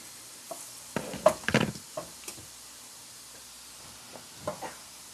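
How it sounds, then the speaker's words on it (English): Food frying in a pan, with soft sizzling under intermittent clatter and knocks from a wooden slotted spoon stirring. Short bursts of scraping and tapping are near and fairly quiet. "we got some sizzling happening"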